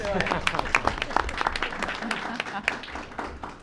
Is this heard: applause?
yes